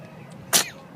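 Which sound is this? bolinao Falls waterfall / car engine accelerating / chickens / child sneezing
child sneezing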